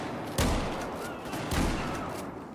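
Two heavy gunshots in Battlefield 4 crack out about a second apart, each a broad, loud blast over a steady, noisy game ambience.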